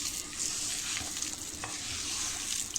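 Cabbage manchurian batter is worked together with added flour, producing a steady, close, wet hissing churn with faint stirring knocks and no speech.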